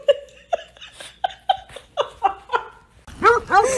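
A dog gives a series of short, evenly spaced barks and yips that climb in pitch, followed by higher whining yelps at the end, close by.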